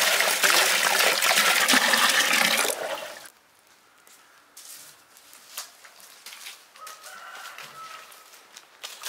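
Water running or pouring loudly for about three seconds during raisin-making from grapes, then cutting off abruptly and leaving quiet room sounds with faint clinks.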